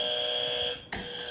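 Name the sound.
quiz game show buzzers being tested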